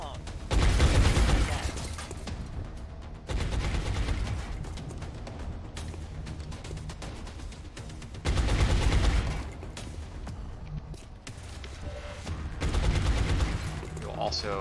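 Suppressing gunfire from an XCOM Long War squad soldier arrives as sustained bursts of automatic fire in several loud stretches, separated by quieter combat ambience.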